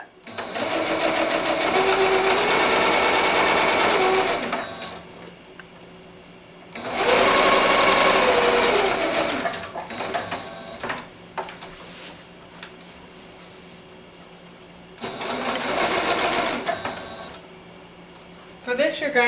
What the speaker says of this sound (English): let's go take it to the machine and sew all the way around the edge